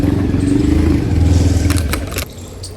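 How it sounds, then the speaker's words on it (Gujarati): A tractor engine idles close by with a loud, steady low chugging that throbs rhythmically. It cuts out near the end, leaving a few light clicks and clatters. "ટ્રેક્ટર લઈ જવાનું"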